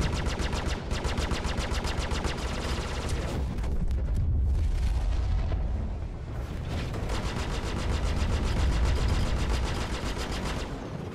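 Rapid bursts of spaceship guns from a Sabre fighter in Star Citizen, loud continuous rattling fire with a brief lull and booming impacts, then sustained firing resumes.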